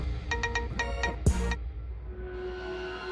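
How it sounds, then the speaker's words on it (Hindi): Electronic phone ringtone in a tense courtroom-drama scene, several short bursts of repeated tones followed by a longer chirping ring, fairly loud and close over a low background hum, with no talking. "नेहा का फोन।"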